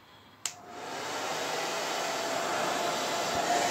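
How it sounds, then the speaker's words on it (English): Hair dryer on low heat, used while pouring acrylic paint for abstract art, switching on with a click and then blowing a steady, loud airy whoosh that continues to the end. "We're going to use our hairdryer,"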